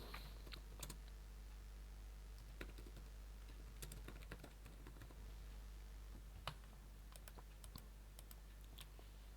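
Typing on a computer keyboard while entering text into a document, a steady run of soft key clicks with occasional sharper taps over a constant low hum, no voices.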